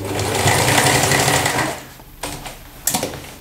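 A sewing machine runs in a steady, fast loud stitching rhythm while darning a tear in denim jeans, then stops and gives a couple of short bursts.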